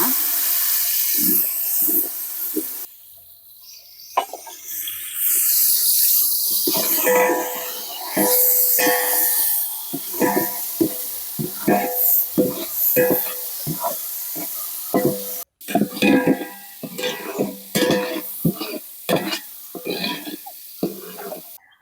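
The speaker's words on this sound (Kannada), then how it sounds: "ಎಣ್ಣೆ ಇವಾಗ ಬಿಸಿಯಾಗಿದೆ ಮೊದಲಿಗೆ ನಾವು ಟೊಮೊಟೊನ ಹಾಕ್ಕೊಳ್ಳೋಣ" Tomatoes fry in hot oil in a pan for egg fried rice, with a crackling sizzle and repeated spatula scrapes and taps, a short pause, then more sputtering and stirring close by.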